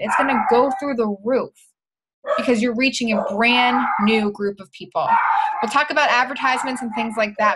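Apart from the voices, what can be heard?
dogs barking in the background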